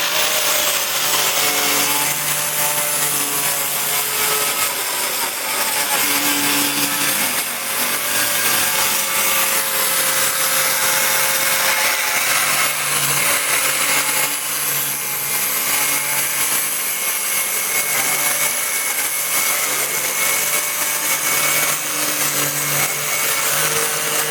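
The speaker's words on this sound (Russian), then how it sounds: "Запускаем нашу турбиночку и режем по черте." An angle grinder cutting along a felt-tip marked line, a harsh continuous whining grind with shifting tonal bands that runs steadily for over twenty seconds, close and loud with no voices.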